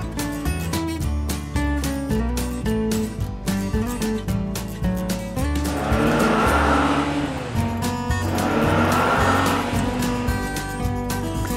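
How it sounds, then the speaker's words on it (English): A purple toy sports car races with car-like revving and two bursts of tire squeal, all under loud, continuous backing music. "purple sport car."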